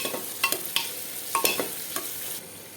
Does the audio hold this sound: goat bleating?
no